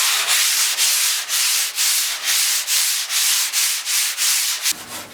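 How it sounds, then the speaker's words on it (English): A surfboard blank is hand-sanded with a soft, flexible sandpaper gauze on a soft pad, giving close, loud rhythmic rasping in about ten even back-and-forth strokes with brief pauses between them. "using a gauze, which is like a soft flexible piece of sandpaper on a soft pad, just nice and soft"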